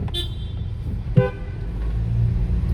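A short car horn toot rings out over steady low traffic rumble, with a brief sharp burst near the start.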